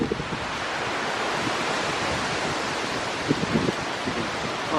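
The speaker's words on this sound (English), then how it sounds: "that wind is still whipping" Strong, gusting hurricane wind from Hurricane Francine in Algiers, Louisiana roars as a constant broadband rush buffeting the microphone, with occasional louder thumps.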